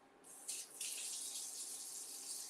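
While pancakes cook, a little water is poured into a hot pan, making a soft, steady hissing gush that starts abruptly and continues quietly at close range.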